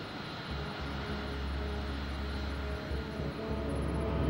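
An airliner's engines spool up on start, a steady low drone layered with a faint high whine that holds constant at moderate level throughout, with no voices.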